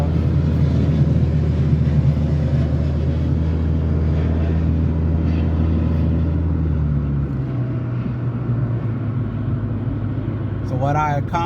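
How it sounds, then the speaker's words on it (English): An airplane passes overhead as a loud, steady droning roar, its low tone gradually dropping in pitch as it moves across. "airplane flying across."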